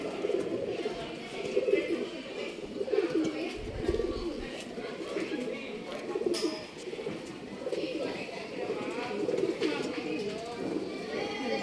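Pigeons, among them a copper-colored male, coo in soft, repeated low rolling calls that run beneath someone talking close by throughout.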